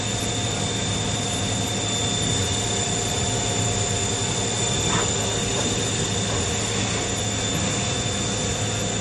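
The spindle of a Bridgeport VMC 800/22 vertical machining centre runs at speed, a steady loud whine with a sustained high tone over a broad machine hum, constant throughout without talk.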